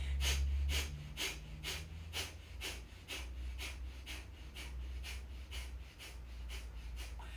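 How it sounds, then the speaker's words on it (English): Rhythmic yogic breathing exercise: a steady series of forceful, evenly spaced exhales, roughly two per second, close and fairly soft over a low background hum, with no talking. "And we're going to do this breath for a few minutes."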